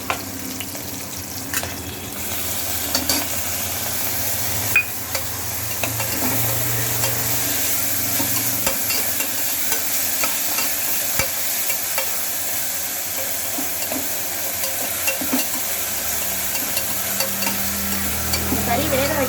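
Food sautéing in a pan for mutton kulambu with a continuous sizzle, while a utensil stirs and scrapes with occasional sharp clinks.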